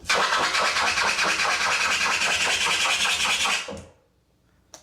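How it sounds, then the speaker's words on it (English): Rapid, continuous rasping scratches of a vinyl record, loud and dense with a quick back-and-forth rhythm, stopping abruptly near the end with a brief faint tick after. "The faster you scratch, the higher the pitch."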